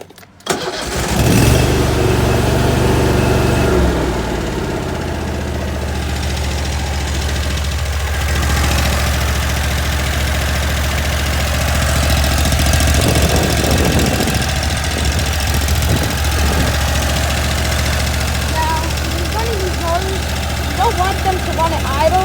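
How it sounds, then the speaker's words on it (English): A Cub Cadet GT 2544 garden tractor engine starts with a loud burst, then settles into a steady, close idle that runs for about twenty seconds with slight variations in tone. "I'm going to turn it back on and I'm going to let you guys hear it run"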